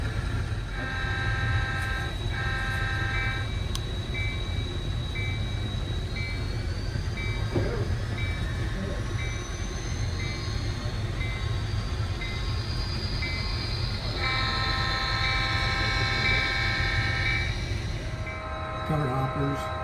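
A Frisco freight train with covered hopper cars rolls past on the line, a steady low rumble of wheels and cars with squealing tonal flange noise, and a horn-like tone sounding briefly near the start and again toward the end.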